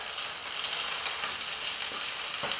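Sea bass frying in a pan gives a steady, bright sizzle that holds evenly throughout, close and alone without talk.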